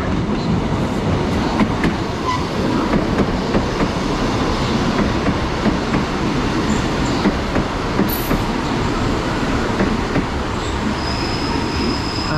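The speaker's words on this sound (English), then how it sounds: "That is the 1516 Great Western Railway service from Paignton to Exmouth." A Great Western Railway diesel unit, the Paignton to Exmouth service, pulls into Exeter St Davids station: steady loud rumble of engine and wheels, rhythmic rail clatter and brief brake squeals, with no talking.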